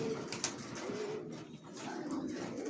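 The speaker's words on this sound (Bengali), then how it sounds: "লংয়ের কবুতর পালি আমার লফটে সব" Racing pigeons in a loft give soft, low cooing calls that repeat and overlap at moderate distance, set against a quiet indoor background.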